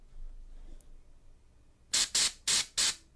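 After a quiet moment, an airbrush laying primer on the underside of a piece of armor gives four crisp, close bursts of hissing spray in quick succession.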